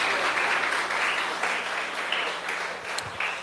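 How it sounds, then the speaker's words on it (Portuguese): Church congregation clapping for Jesus during a sermon, a moderately distant, even wash of applause that holds steady throughout without pauses. "Você pode aplaudir a Jesus?"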